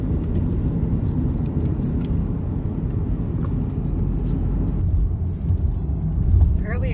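A car drives along the road toward Joffre Lake, giving a steady low engine and tyre rumble that holds throughout, with a slight swell near the end; no one speaks.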